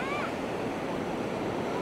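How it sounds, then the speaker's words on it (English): Choppy sea waves wash steadily onto a beach at Ao Manao Beach in Prachuap Khiri Khan, Thailand, a constant roar of surf mixed with wind. "You can see how choppy that water is."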